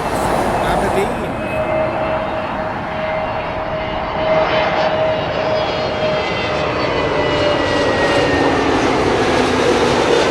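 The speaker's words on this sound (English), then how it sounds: "BA's A320neo from Aberdeen." A British Airways Airbus A320neo jet arriving from Aberdeen at London Heathrow roars steadily and loudly throughout, with a sustained engine whine and a slowly shifting pitch as it passes near, with talk under the engine noise.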